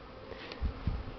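Honeybees buzz faintly and briefly around hives during an early spring cleansing flight over snow, a soft low hum with a couple of short nearer passes.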